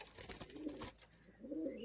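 Several pigeons, including old Madrasi birds, coo in low, rolling bursts at moderate distance, with a pause between two clear cooing phrases and some light background noise.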